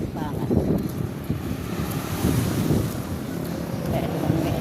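A boat motors along on an open river, its low engine rumble steady beneath wind buffeting the microphone and faint splashing.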